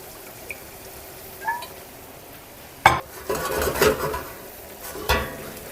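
Orecchiette and broccoli rabe stirred in a pan with pasta water and olive oil, a few scraping, clattering stirs near the end over a faint background sizzle, no talking.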